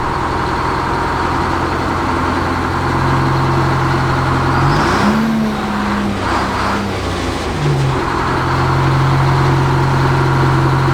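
The large old Detroit diesel engine of a dragline in a Florida sandpit runs steadily throughout, a loud rumbling idle that briefly revs up and settles back down.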